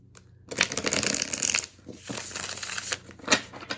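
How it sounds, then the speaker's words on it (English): A deck of tarot cards being riffle-shuffled up close, with quick crisp flurries of flicking and a brief pause in between. "Let's just see how they shuffle up real quick."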